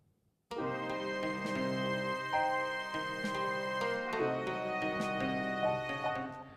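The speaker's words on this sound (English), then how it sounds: "I layered more violins and I added the trumpets back" After a brief silence, an orchestra of layered violins and trumpets comes in, holding full, sustained chords that shift steadily.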